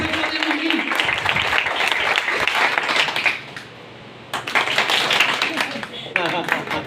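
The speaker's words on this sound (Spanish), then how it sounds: "Aplaudan, no me está aplaudiendo a mí." A church congregation claps in applause during a sermon, dense and fairly loud for about three seconds, then a brief lull before clapping and voices pick up again, with talk mixed in throughout.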